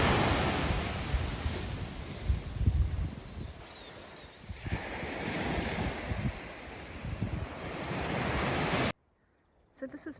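Surf washes onto the shore at Anchorage Bay in Abel Tasman, a steady roar of breaking waves heavily mixed with wind buffeting the microphone, before cutting off abruptly near the end.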